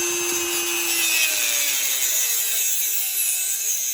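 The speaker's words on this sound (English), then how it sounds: "So I'll cut the excess off and then sand the rest. So I'm going to grab my Dremel tool." A Dremel rotary tool cuts excess material off a handmade Kephart knife, a steady high-pitched grinding whine that holds loud and continuous throughout, with a lower tone sliding down early on and no voices.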